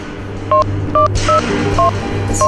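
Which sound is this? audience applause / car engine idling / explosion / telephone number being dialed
telephone number being dialed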